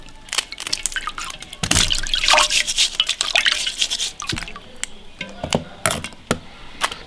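Crayfish being rinsed in water, with close splashing and dripping, scattered clicks as the shells knock together, and bursts of running water in an uneven rhythm.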